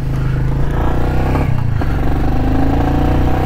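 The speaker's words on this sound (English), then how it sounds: "I'm not really revving the motorcycle out crazy" A Royal Enfield Meteor 350 motorcycle engine runs close by at a steady low idle thump, with a brief rise in pitch midway. The sound is loud and continuous, with no talking.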